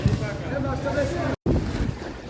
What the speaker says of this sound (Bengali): কোনো ট্রলার আসছে মাছ নিয়ে কোনো ট্রলার চলে যাচ্ছে